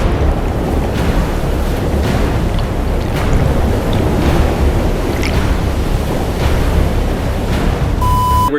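Ocean surf and rushing water north of New Zealand's North Island, a loud continuous roar buffeted by heavy wind on the microphone, with a short tone near the end.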